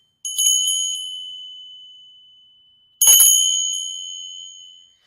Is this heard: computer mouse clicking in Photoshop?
no